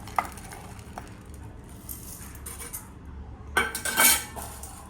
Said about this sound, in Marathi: हरभऱ्याची डाळ भाजून घेते